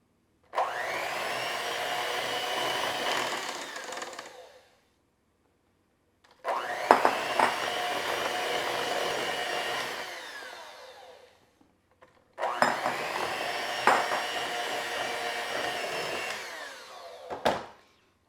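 An electric mixer beats pumpkin batter in a bowl in three separate bursts of loud, steady motor whirring, each a few seconds long, with brief pauses between them and no voices.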